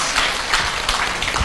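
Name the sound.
audience applause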